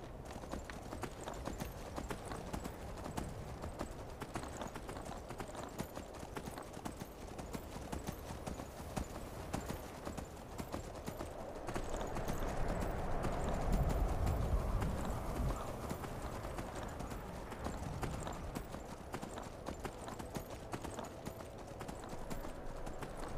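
Horse hooves clip-clop steadily in the video game Skyrim, a quiet, rapid repeating patter that swells briefly in the middle as the horse moves, with no speech over it.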